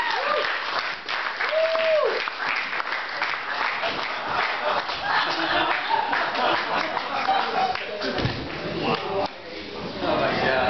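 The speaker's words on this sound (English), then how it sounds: "You guys, give a big round of applause for Emo Phillips." A theater and bar crowd applauds a comedian taking the stage at a Halloween comedy show, sustained loud clapping with whoops and shouts, voices mixed in near the end.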